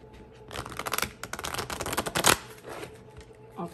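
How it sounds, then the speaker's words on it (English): A deck of tarot cards is shuffled by hand, close by, in a fast rattling riffle of flicking cards that lasts about two seconds and ends with a softer tap. "let me get one more shuffle"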